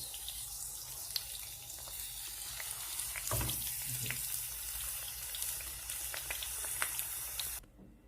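Aubergine frying in oil, a steady close crackling sizzle with scattered pops and brief clinks, continuous until it cuts off abruptly near the end.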